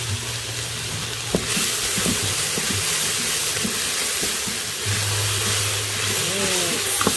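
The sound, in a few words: garlic and celery frying in Instant Pot saute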